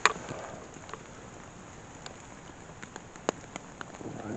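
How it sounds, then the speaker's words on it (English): Rain falls in the woods at a campsite, a soft continuous patter with scattered louder drips striking nearby surfaces, fairly quiet and steady with no voices. "I think the rain's dying down a bit."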